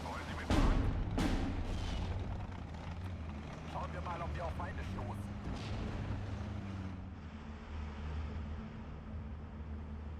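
Artillery fire in the WWII strategy game Steel Division 2 on the Tiraspol campaign map, with a sharp blast near the start, a couple of further booms and a steady low rumble beneath a voice talking.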